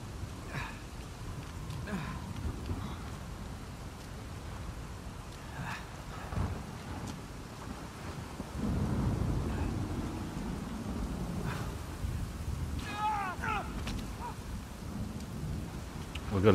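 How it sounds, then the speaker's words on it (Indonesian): Continuous rain with deep rumbling thunder in a stormy video game scene heading to an island, a heavier rumble swelling midway, with scattered brief game effects and faint tones over the wash. "Kilat sabung menyambung."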